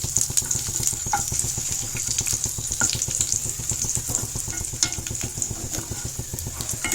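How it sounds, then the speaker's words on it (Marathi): Dry fruits and raisins roasting in a pan, a steady close sizzle with constant crackle and a quick rhythmic scrape of stirring throughout, no voices. "ड्राय फ्रूट्सला चांगलं परतून झाल्यावर त्याच्यातले किशमिश पूर्ण फुगेपर्यंत आपण भाजून घेऊ."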